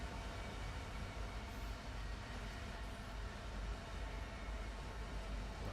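Union Pacific intermodal train running toward LA in the Run8 train simulator game, on a Southern California route: a steady, quiet rumble of rolling rail noise with no distinct events.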